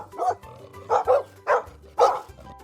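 A dog barks in four sharp, separate bursts spaced fairly evenly, each one loud and close against a quiet background.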